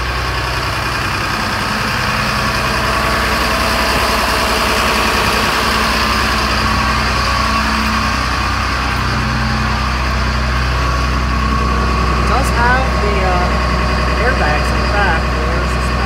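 A 2007 Freightliner FS65 truck with a Mercedes engine idles close by with a steady, low, vibrating rumble that holds constant throughout, while a person talks over it.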